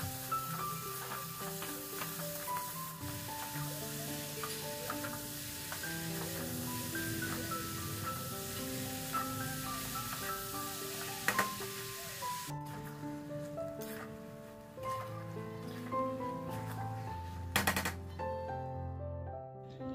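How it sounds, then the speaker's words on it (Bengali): Cabbage curry sizzles and fries steadily in a pan in a home kitchen, with occasional clinks and stirring scrapes of a utensil; a soft musical tone plays faintly underneath. "আর এদিকে আমি বাঁধাকপি তরকারিটা করে নিচ্ছি"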